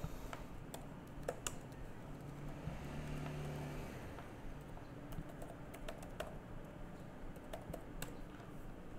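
Fingers tapping a computer keyboard in scattered short bursts of clicks over a low, steady background hum, quiet and close, with no talking.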